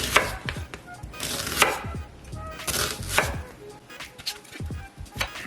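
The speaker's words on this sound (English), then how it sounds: "Slice your onions" A knife slices through onions on a cutting board in a home kitchen, with steady rhythmic chopping strokes that come close and crisp, and no talk over them.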